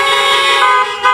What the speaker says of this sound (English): please honk if you're happy